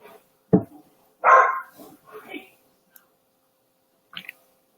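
A puppy named Annie gives a short sharp bark, then a louder yelping burst, with quieter whimpers and a light click following. No one speaks over it.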